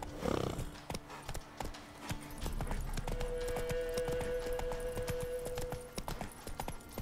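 Horse hooves clip-clop steadily at a trot in The Witcher 3 video game, quiet and even, with a soft game tone and ambient effects beneath.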